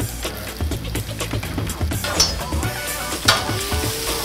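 Potatoes fry in a pan alongside chiles and onions with a little olive oil, crackling and sizzling steadily up close, while a spoon clatters and scrapes as the food is stirred.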